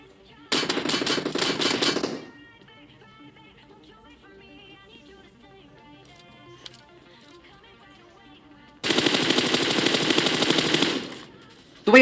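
Sustained automatic bursts from an M4 rifle in the battle royale game PUBG: two loud, dense stretches of rapid fire, the first of about two seconds and the second lasting roughly three, with quieter in-game ambience and music between them.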